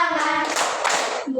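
Hands clap in a short burst during a classroom movement activity, following a brief stretch of a voice singing or chanting.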